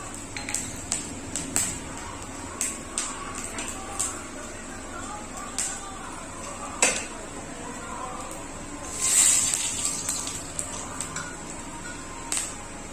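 Oil hisses and sizzles softly in a pan as chilies are added to garlic fried red for a tempering, while utensils clink and scrape now and then, with a louder hissing flare partway through.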